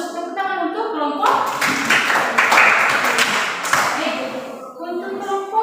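Classroom applause for group one, with a burst of clapping from many hands that swells and fades over a few seconds. Voices are heard before and after the clapping.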